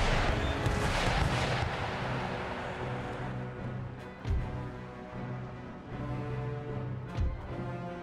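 Ship cannons fire in a broadside in Empire Total War, a rolling series of deep booms followed by scattered separate heavy thuds at moderate distance.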